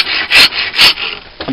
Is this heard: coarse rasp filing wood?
yes